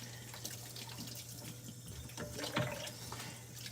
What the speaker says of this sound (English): I'm washing my hands again after touching raw beef